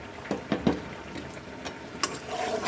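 Rohu fish sautéed in a pan with spices and green chili: soft sizzling with a few scraping stirs and light clinks, fairly quiet and alone.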